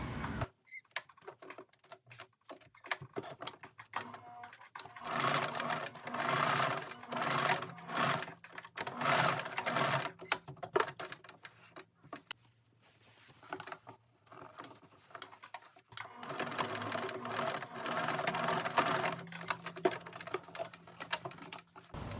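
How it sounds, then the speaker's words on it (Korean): A sewing machine stitches down the pocket triangles on a pair of baggy banded pants, running in several bursts of rapid mechanical clatter separated by short pauses, fairly close with no talking. "이 삼각형을 먼저 고정하는 스티치를 합니다."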